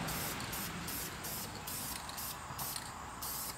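Spray paint is misted onto a car wheel in a continuous close hiss, pulsing in short rhythmic bursts as the nozzle is pressed and released.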